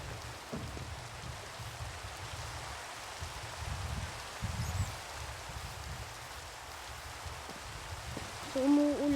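Rain in Minecraft falls as a soft, steady hiss of droplets, faint and even throughout, with a brief brighter game sound near the end and no talk.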